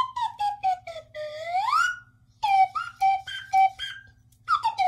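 A slide whistle plays close and clear, gliding pitches up and down in short toots and one long rising sweep, with nothing else heard.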